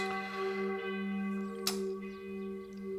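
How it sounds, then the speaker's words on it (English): A large church bell swings as it rings, giving a sustained, resonant tone with rich, steady overtones and a slight wavering warble. "that kind of warping of the sound, that wow, that's, a Doppler effect, because the bell is swinging while it's ringing"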